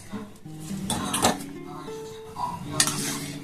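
Boiled chow mein being stirred in a pan for a sweet dish, with clattering utensil scrapes and metallic clinks against the pan in short irregular bursts, close by, while a voice talks over parts of it.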